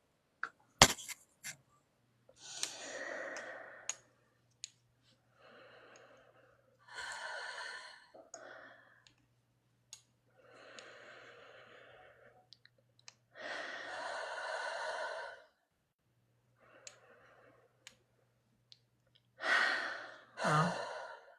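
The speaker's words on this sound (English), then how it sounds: "let's take 3 deep breaths and we're going to jump into it" Deep breathing from a small online group, with several long, slow inhales and exhales spaced out over quiet pauses, plus a few light clicks and a faint steady hum in the background.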